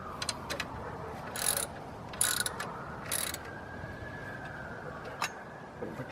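A hand ratchet tightens the alternator bolts on a 2002-07 Jeep Liberty KJ during an alternator replacement, giving several bursts of close, sharp clicking separated by pauses with no voices.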